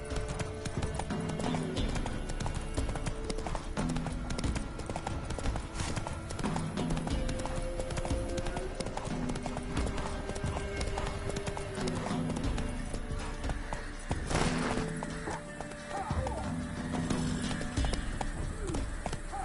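Horse hooves clip-clop steadily in The Witcher 3 video game, a continuous rhythmic trotting with occasional whinnies over game ambience and music.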